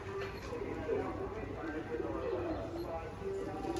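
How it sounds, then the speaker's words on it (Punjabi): Kept pigeons coo faintly around a loft in low, repeated burbles, mostly beneath nearby conversation. "ਕਬੂਤਰ ਤਾਂ ਫਿਰਦੇ ਆ"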